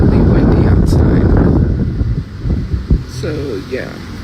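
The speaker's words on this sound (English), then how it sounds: "really windy outside." Strong outdoor wind buffeting a phone microphone, a loud roaring rumble that fades after a couple of seconds, with a person speaking quietly underneath.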